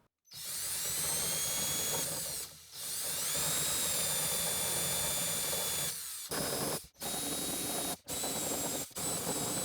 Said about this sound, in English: I'm removing the epoxy primer using a 5mm end mill bit in the drill